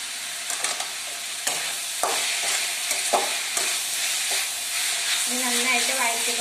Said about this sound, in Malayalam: നന്നായിട്ട് വഴറ്റി കൊടുക്കുക അതായത് ഈ തക്കാളി നന്നായിട്ട് വെന്ത് നടു ഉപയോഗിക്കുന്നതോളം നില നമ്മൾ നന്നായിട്ട് ഇളക്കി കൊടുക്കുക